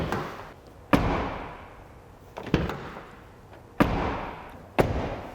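The rear door of a new Hyundai Tucson is shut four times in a row, each a sharp, close thump that fades slowly before the next one.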